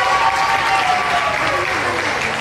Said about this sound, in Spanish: quiero que felicitemos con un aplauso